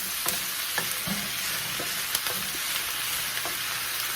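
Sausage with onions and peppers sizzles steadily in a pan for a breakfast casserole, with a few sharp scrapes and taps of a utensil breaking up and stirring the meat.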